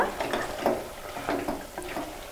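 Coorg-style pork fry masala being stirred in a pan, with soft scraping and stirring strokes over a faint sizzle, close and fairly quiet, at an irregular rhythm.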